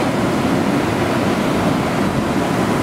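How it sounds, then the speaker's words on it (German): Ocean waves break on a beach, a loud, continuous roar of surf that fills the whole stretch without pause, close and steady, with some wind buffeting and no speech. "Die Wellen kommen jetzt bis hier direkt vor meine Treppe gerade."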